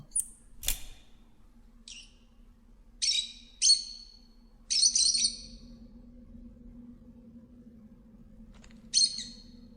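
Caged birds in the video game Virginia give a handful of short, bright chirps and squawks spread across the clip, some loud and near, over a quiet low ambient hum.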